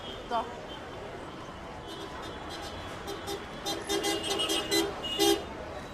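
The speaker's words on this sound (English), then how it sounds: "the traffic gets even busier." Heavy rush-hour road traffic in India at dusk hums steadily, with several short car-horn toots clustering toward the end. A voice talks over the traffic.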